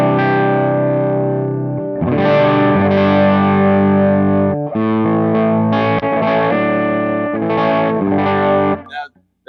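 Distorted electric guitar through a BuzzTone Megaplex Stage 3 pedal set to a JTM 45-style tone, loud sustained chords and riffs with a crunchy overdriven edge, played alone and cut off at the end.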